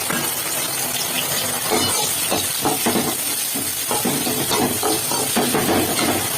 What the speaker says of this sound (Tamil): வெங்காயம் சேர்த்து நல்லா வதக்கிக்கலாம்